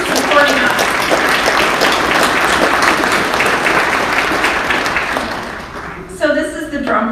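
A crowd at a State of the District address claps in a sustained burst of applause that fades after several seconds, and then a voice starts speaking.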